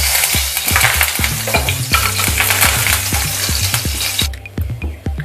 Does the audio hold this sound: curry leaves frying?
yes